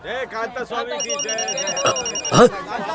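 An office telephone rings with a steady electronic trill for about a second and a half, partly buried under people talking loudly nearby.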